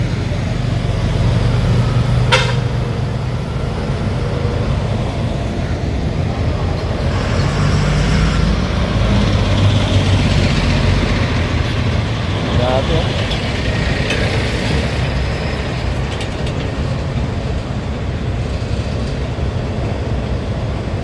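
Heavy road traffic in the town of Lupi, Camarines Sur: a steady, loud roadside rumble of idling and passing vehicles and engines, with occasional brief rattles and clanks, continuous throughout.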